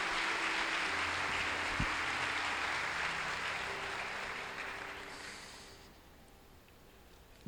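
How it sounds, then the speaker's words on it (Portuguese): Church congregation applauding during a service, a dense sustained clatter of many hands that gradually thins and fades away toward the end. "Você pode aplaudir o Senhor Jesus?"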